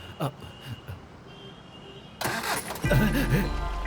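Car engine cranks and catches after a quiet street scene, then settles into a steady, loud running rumble close by.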